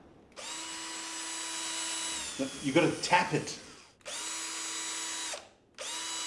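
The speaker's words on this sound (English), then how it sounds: "Let go of the drill. It's not stopping." A handheld power drill whirs loudly in long steady bursts that start and stop, with voices and laughter breaking in between runs.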